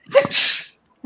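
A single sharp sneeze bursts out close and loud, followed by a brief quiet pause.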